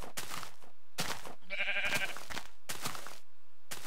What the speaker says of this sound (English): Bad sheep, stop jumping around in a hole.